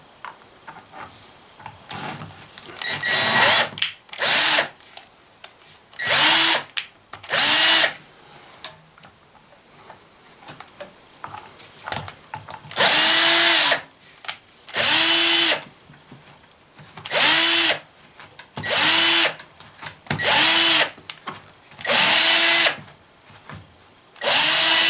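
A power drill works on Wolseley car parts in repeated loud bursts of a few seconds each, whirring and grinding against metal. Short quiet pauses separate the bursts.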